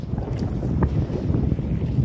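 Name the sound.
strong wind on river boat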